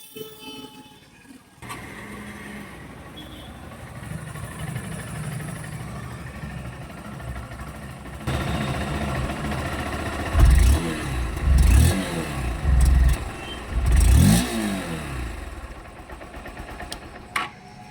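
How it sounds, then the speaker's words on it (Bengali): A Honda SP 160 motorcycle engine idles with a steady low exhaust note, then revs up sharply in several loud bursts before settling back to idle, heard close by. "একবার আমি বাইকটাকে অন করে তোমাদের এক্সট নোটটা শোনাবো"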